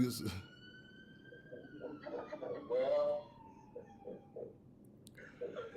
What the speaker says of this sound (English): There's the police sirens in the background right now